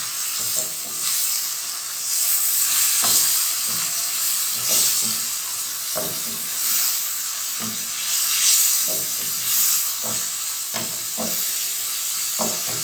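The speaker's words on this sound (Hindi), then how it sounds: "इसको कवर करके रख देंगे इतनी देर के लिए कि ये बिल्कुल अच्छा सा भुन जाए" Minced meat keema for tikka keema fries on a low flame, a steady broad sizzle and hiss throughout, broken by scattered clicks and scrapes of a spoon stirring the pan.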